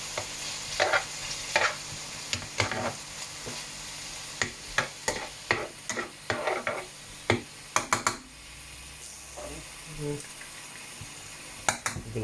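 Beef frying in a pan with a steady sizzle, punctuated by a dozen sharp scrapes and clanks of a utensil stirring the meat at irregular intervals, close and fairly loud.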